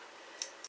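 Scissors snipping through a man's shirt fabric, two quick faint cuts close by in a quiet room.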